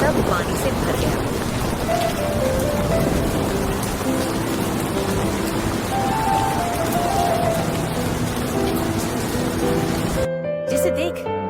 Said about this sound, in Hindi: गांव में जोरदार बारिश शुरू हो गई